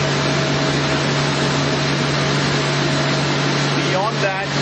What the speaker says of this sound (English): This was the gasifier.